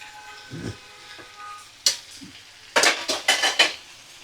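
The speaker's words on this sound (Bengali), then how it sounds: "এবার দেখো ছোট ছোট টুকরো করে কেটে রাখা লাউ আমি দিয়ে দিচ্ছি।" Chopped bottle gourd pieces go into a cooking pan. Soft rustles are followed by a loud burst of metal spoon scraping and clattering against the pan as it is stirred, close up with a faint background hum.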